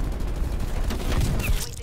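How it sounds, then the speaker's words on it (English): A strafe run airstrike in a shooter game: continuous rattling gunfire and explosions, loud and dense throughout, with a voice faintly mixed in. "There's my strafe run"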